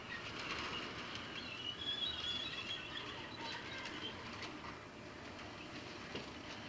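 A model coal train pulled by an FP45 locomotive rolls along a layout, a soft continuous rumble of wheels on track with faint squeals and light clicking, fairly quiet and steady throughout.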